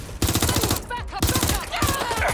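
Rapid automatic gunfire from the video game Watch Dogs: Legion rattles in loud, dense bursts with a brief lull in the middle. Tonal game effects sound during the lull, and voices call out over the shots.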